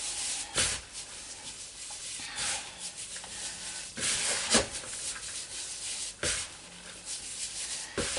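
Bath bomb mixture with fragrance being rubbed through by hand, giving a steady close-up gritty rubbing and sanding texture with a few sharper scrapes, no talking.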